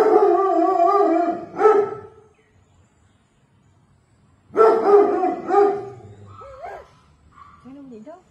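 A dog behind a fence gives howling barks in two bursts separated by a pause, close and loud, with a voice briefly joining near the end.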